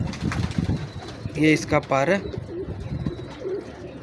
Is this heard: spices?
no